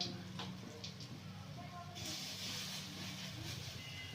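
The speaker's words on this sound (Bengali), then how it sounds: "এইভাবে বড়াগুলো কড়াই দিয়ে দেবো" Lentil fritters being dropped one by one into hot oil in a wok, a constant close sizzle that swells louder as a fresh batch hits the oil partway through.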